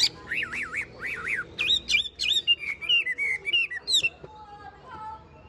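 A caged songbird, a Tam hoàng bird, sings close and clear: wavering looping whistles, then a run of short bright warbled notes ending in thinner chirps.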